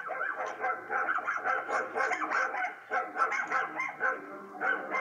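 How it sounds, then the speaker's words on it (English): Several dogs bark and yip in a film scene, a busy overlapping run of barks with whimpers that continues without pause from start to end at a fairly close, loud level. "Oh look, dogs."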